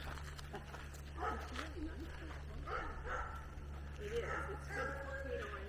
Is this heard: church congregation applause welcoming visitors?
no